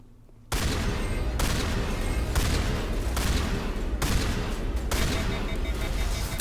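Loud, dense shotgun fire and combat blasts in the video game Mass Effect start abruptly after a quiet moment, then continue as a sustained barrage of overlapping shots and impacts.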